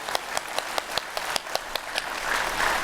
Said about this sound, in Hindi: जरा जोर से ताली ठोको, धीरे धीरे क्यों बजा रहे हो?